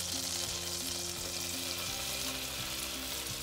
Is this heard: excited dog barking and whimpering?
no